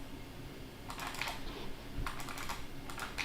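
Keys on a computer keyboard clatter in short bursts of typing, close and moderately loud, with pauses between the runs and no one speaking.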